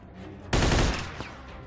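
Burst of gunfire from the Mafia II video game, a loud sharp blast of rapid shots lasting under a second, then a single fainter report, with the game's background sound underneath.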